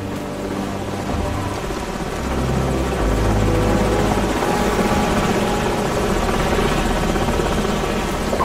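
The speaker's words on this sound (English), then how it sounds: "Enemy helicopters." Enemy helicopters in the Call of Duty 4: Modern Warfare mission close in with a steady, heavy rotor drone that grows louder after a few seconds and then holds, with no voices.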